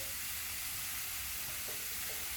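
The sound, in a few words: vegetables frying in a skillet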